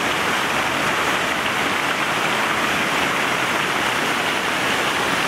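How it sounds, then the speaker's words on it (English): Water gushes under a bridge by a mill lake on a countryside walk near Chilham, Kent, making a steady, loud, broadband rush like heavy rain that holds unbroken throughout with no voices. "You can probably hear the noise of the water gushing under this bridge."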